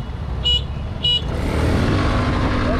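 Two short, bright horn beeps from a Revolt Volta RS7 125cc sound over a continuous rumbling engine, followed by the motor revving louder.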